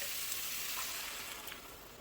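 Quiet, steady sizzle of food frying in a skillet, a soft hissing crackle with occasional pops, no talking.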